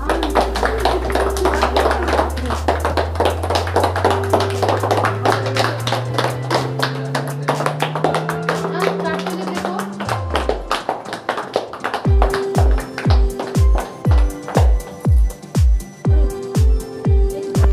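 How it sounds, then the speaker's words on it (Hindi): Hands clapping at a birthday celebration, first a quick, dense patter of many claps over a sustained tone that slides upward, then slower, loud rhythmic claps in an even beat. "अरे ताली मारो तुम लोग।"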